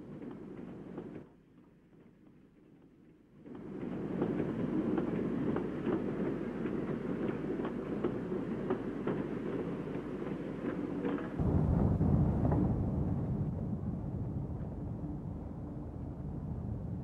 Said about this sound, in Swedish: Växling med Slitehamn Roma, lok 1 eller 2, samt lok 3 inför unga åskådare.